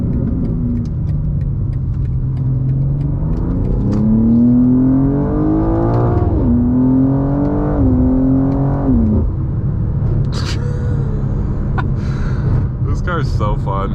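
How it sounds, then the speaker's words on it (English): A BMW M2 (G87) engine revs and whines as the car slides through a long corner on Michelin Pilot Sport 4S tires, pitch rising and falling as the tires work, with a brief squeal near the end. "Let me do a little slide around this corner."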